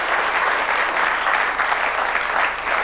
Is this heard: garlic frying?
no